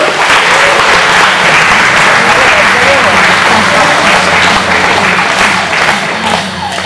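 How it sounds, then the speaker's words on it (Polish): A school assembly audience in Ełk gives loud, sustained applause, a dense wash of many hands clapping at once, with some voices mixed into the crowd noise. "Wielkie brawa!"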